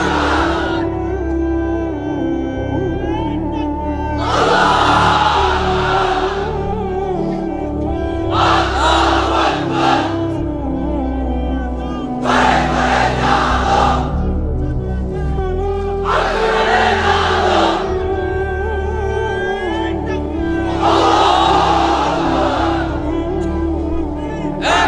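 A large crowd of unmarried men at a religious gathering roars a chant in answer to a takbir call, several loud, massed shouts repeating in waves with brief gaps between them.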